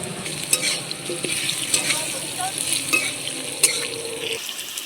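Food sizzles steadily in a hot pan, with occasional scraping clicks of a utensil stirring it, continuous and close.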